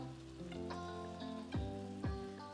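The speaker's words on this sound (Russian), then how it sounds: "Теперь яйца я просто выливаю вот так вот наверх." Beaten eggs poured over a hot pan while cooking a simple Turkish breakfast set up a steady crackling sizzle, with a few sharper pops and utensil knocks standing out; close, with no talking.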